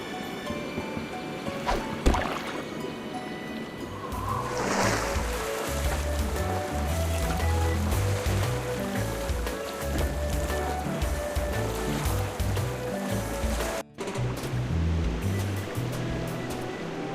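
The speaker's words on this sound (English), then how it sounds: "The raft is yours for the day. Just hop on board and use it to sail anywhere within the Jerkbait Islands." Raft sailing on water in the Tales of Monkey Island video game, a steady wash of waves and lapping water with paddle-like sloshes, under a continuous musical score with no talking.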